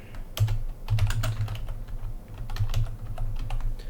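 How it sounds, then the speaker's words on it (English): Steady keystrokes on a computer keyboard tap out a command in quick, uneven bursts, close and clear with no talking. "we're going to type in the follow code, sudo"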